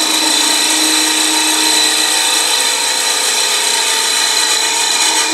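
A wood lathe spins steadily while a captive ring goblet is turned, giving a loud, continuous whirring hum with a constant scraping hiss from the cutting tool and no pauses.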